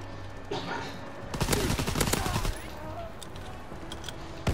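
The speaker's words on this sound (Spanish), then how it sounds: "de cadera dispara bastante bien sin necesidad de tener la puntería estable" STEN submachine gun in Call of Duty: WWII firing rapid automatic bursts, loudest in a dense mid-clip volley, with quieter shots around it under game ambience.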